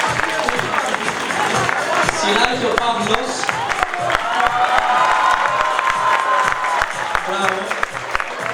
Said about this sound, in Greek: Χειροκρότημα για την Κατερίνα